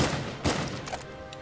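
Gunshots from the video game Uncharted 4, a couple of sharp bursts over a dense, busy game soundscape, fairly close and moderately loud.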